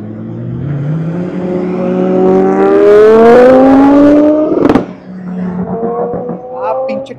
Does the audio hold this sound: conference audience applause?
no